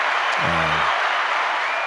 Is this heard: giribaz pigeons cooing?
no